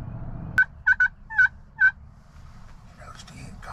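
Wild turkey gobbling in a field on the South Carolina spring opener: four or five short, sharp rattling bursts in quick succession, fairly loud and clear at mid distance, with no talk over them.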